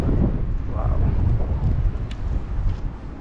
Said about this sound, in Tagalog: Yan, malakas ang hangin